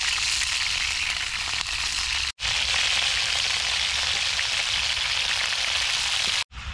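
Food sizzles steadily in a hot pan, a loud, close, continuous hiss with two brief dropouts and no talking.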